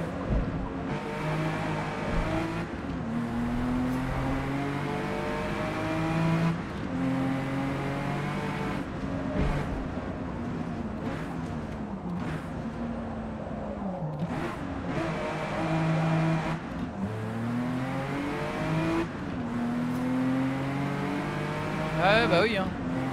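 A racing car engine in Forza Motorsport revs and shifts through gears in a steady, sustained drone with rising and falling pitch sweeps, loud and continuous, while a voice talks over it.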